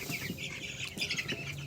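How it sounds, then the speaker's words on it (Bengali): Twenty-one-day-old Koyla chickens on a farm clucking and peeping in a busy overlapping chorus, close and continuous, with no voices. "এই যে দেখতে পাচ্ছেন আমার খামারের কয়লা মুরগিগুলো"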